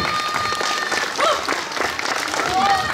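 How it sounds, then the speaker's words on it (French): Crowd applause at a medieval festival in Provins, broad steady clapping filling the space with voices calling out over it throughout. "Vous pouvez l'applaudir."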